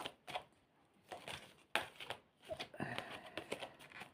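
A small tarot deck being shuffled by hand, a close series of soft riffling snaps and papery slaps in uneven bursts.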